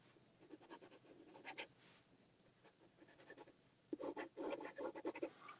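A very fine nib pen scratches across paper in short bursts of strokes, with a louder, denser run of writing near the end. Quiet and close, with no voices.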